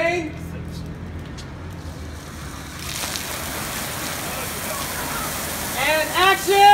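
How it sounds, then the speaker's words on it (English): A rain machine sprays fake rain onto a street film set during a commercial shoot, a steady broadband hiss that rises midway and continues under occasional voices and crew chatter. "Stand by for rain."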